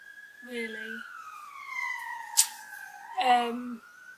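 A siren wails with a slowly falling and rising tone, fairly clear, while a person talks over it in short bursts.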